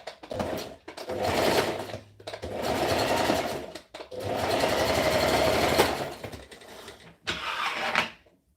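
A sewing machine stitches a v-neck shirt in several loud, close bursts of rapid mechanical whirring, separated by short pauses where the fabric is repositioned.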